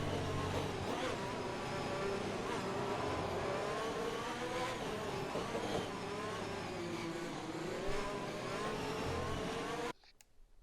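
Race car in a racing video game on a Spanish circuit, its engine a steady, high revving drone that holds throughout with slight pitch shifts, then cuts off abruptly near the end.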